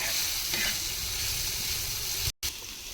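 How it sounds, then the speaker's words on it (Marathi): Onions fry in a pan with a dense, even sizzle close by, steady throughout apart from a brief cut near the end, with no talking. "असा कांदा ना लालसर होतोय ना म्हणजे मस्त मस्त तळून जातो नाही का कांदा"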